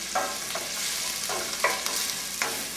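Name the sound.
vegetables sweating and frying in a pan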